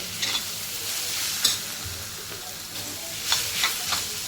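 Garlic frying in a spiced prawn masala, stirred with a utensil. A continuous sizzle runs throughout, with scraping stir strokes scattered across it, close and alone without voices.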